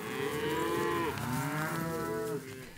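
Cattle moo loudly and close at hand as they are driven off a highway into winter pasture, with long, overlapping low calls from several animals.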